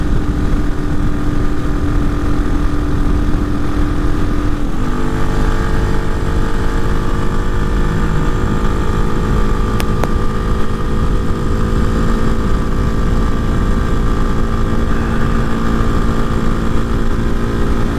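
A Hawk 250 motorcycle with a Loncin RE250 engine cruises at about 65 mph, its engine holding a steady high drone with a brief pitch shift partway through, loud and continuous with wind noise and no talking.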